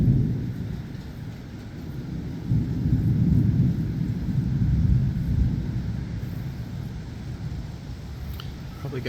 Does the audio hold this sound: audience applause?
no